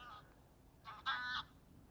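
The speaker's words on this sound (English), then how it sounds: "Geese, I mean. Not swans." Geese honk faintly in the distance on an early Sunday morning, two or three short nasal calls over a quiet, hissy background.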